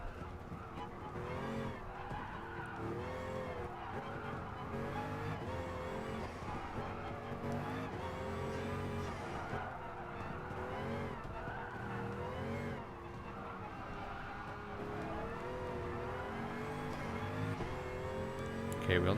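Race car engines from Gran Turismo Sport's Midship Challenge drone steadily and rise and fall in pitch through gear changes over about nineteen seconds, with occasional tire noise and a voice talking over it.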